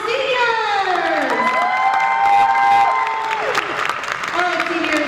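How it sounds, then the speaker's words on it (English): Concert audience of families applauding and cheering for graduating seniors at a school spring string concert, continuous clapping with whoops and children's shouts over the top. "One more round of applause for our seniors."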